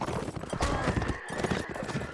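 Horse hooves clip-clopping in a competitive multiplayer video game match, a busy rapid patter of hoofbeats mixed with other game noise and clatter throughout.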